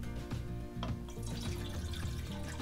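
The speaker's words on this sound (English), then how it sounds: "Tap water, same temperature." Cold tap water pours steadily into a Tangia camp pot, about 500 millilitres, with a continuous splashing fill and a few brief louder splashes at close range.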